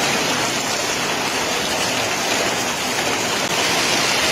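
Heavy rain pouring down outdoors in Thailand, a loud, dense, steady hiss of water close by that continues without break and without voices.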